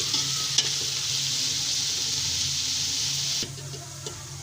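Onions browning to dark brown in ghee for beef yakhni pulao crackle in a constant, close sizzle that drops slightly in level near the end.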